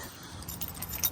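A large bunch of keys on a ring jangles close by in short metallic rattles, with a brighter clink near the end, while someone sorts through them to find the fuel tank key for a Yamaha.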